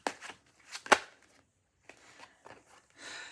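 A tarot card deck being shuffled in short bursts of riffling and snapping, with a sharp slap near the start and softer scattered card flutters after a pause, close and fairly quiet.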